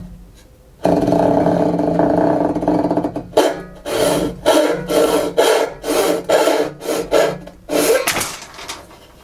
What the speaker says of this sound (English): now we're going to do the Lie-Nielsen tapered tenon saw